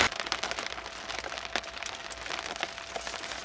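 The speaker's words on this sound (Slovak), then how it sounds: "Dosť prší" Rain falling while a group waits beside a Land Rover Defender 90 on an expedition, a steady, close crackling patter of drops hitting surfaces, fairly quiet and with no talk.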